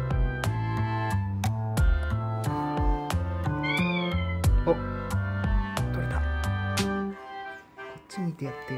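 A Sony aibo robot dog imitates a cat's meow. Its synthetic, mewing calls come over a steady stepped tonal backing, fairly loud and close.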